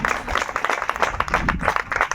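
A church congregation clapping their hands together in a fast, dense burst of close, loud claps for a couple of seconds, with some voices mixed in.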